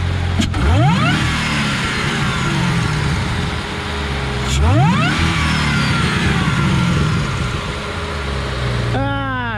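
A supercharged 2013 Chevrolet Camaro ZL1 engine revs hard twice, rising in pitch with each burst, then settles into a loud rumbling idle up close.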